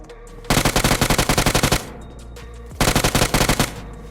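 Automatic gunfire in a shooting video game: two loud, rapid machine-gun bursts of about a dozen evenly spaced shots each, separated by a short pause, close and dominant with no voices.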